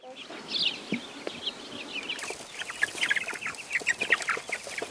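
Chickens cluck and chatter continuously at close range, with scattered sharp calls and faint background rustling.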